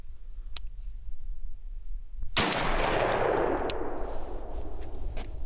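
Single loud, close shotgun blast from a Weatherby SORIX with improved cylinder choke and 4-shot loads, fired at a 35-yard target outdoors, a sharp crack followed by a rolling echo that decays over several seconds.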